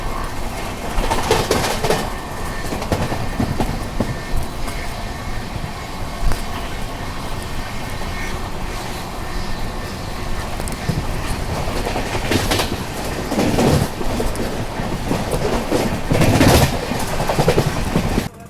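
SMVT-Howrah AC Superfast Express running on its line near Katpadi Junction, a steady rumbling roll with clickety-clack bursts and rising surges of wheel noise, heard from on board with no talk.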